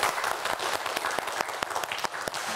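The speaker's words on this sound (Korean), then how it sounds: "여러분 박수 다시 한번 보내주세요" A studio audience claps steadily and loudly throughout on a Korean science quiz show, a thick, continuous burst of applause with scattered sharper claps.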